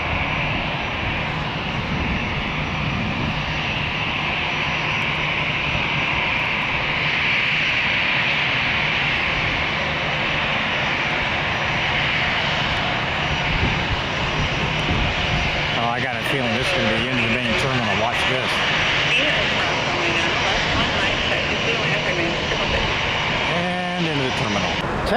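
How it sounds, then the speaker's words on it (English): An MD-80 jet airliner sits near runway 9 at an Atlanta airport while an aircraft taxis up behind it. Loud, steady engine roar fills the whole stretch, with voices faintly under it. "Sounds like somebody's taxiing up behind me for runway 9."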